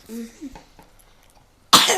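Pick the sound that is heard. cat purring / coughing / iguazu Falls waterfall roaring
coughing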